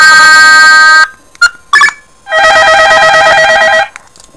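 A big-button mobile phone, the Classic Sympa 2 in red, plays a very loud ringtone in close, piercing bursts: a sustained tone, two short blips, then a longer warbling ring.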